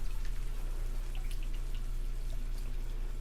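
Water poured and swirled inside a sauce bottle to rinse it, about half a cup, giving a soft continuous liquid trickle with small drip-like splashes, quiet and close.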